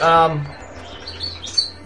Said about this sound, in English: the birds might be a little noisy